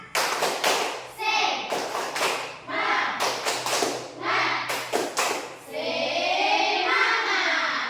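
An elementary class in Indonesia performs the 'tepuk semangat' spirit clap, bursts of sharp hand claps in a set rhythm alternating with children chanting in unison, then a longer sung phrase at the end.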